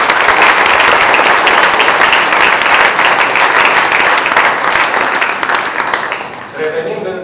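Loud, dense applause from a large audience at the 2014 Aspen leadership gala in Romania rolls on steadily, then thins and tapers toward the end as a few final claps trail off.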